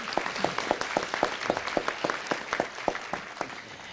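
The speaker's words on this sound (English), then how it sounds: "let's give Vanessa another round of applause" A small audience at a city council meeting claps for a Black History Contest winner, a thin scatter of distinct hand claps, fairly faint, with no voices over it.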